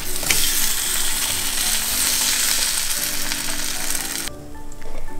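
Batter and egg for a Taiwanese omelet frying in a pan, a loud, close, continuous sizzle that suddenly drops away near the end.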